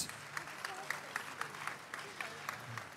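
A church congregation claps during a service, faint distant applause with a few sharper individual claps standing out, a voice talking beneath it.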